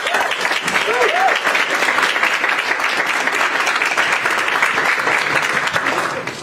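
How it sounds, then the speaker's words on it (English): A lecture hall audience applauds steadily and loudly, a dense continuous clapping that holds for several seconds and fades slightly at the end, with no speech over it. "A big round of applause for them."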